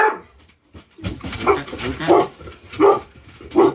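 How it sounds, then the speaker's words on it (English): A Labrador barks in a series of loud, close woofs spaced about half a second to a second apart, with soft whimpering between the barks. "I'm going to go see what they're barking at."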